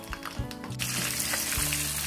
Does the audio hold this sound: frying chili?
yes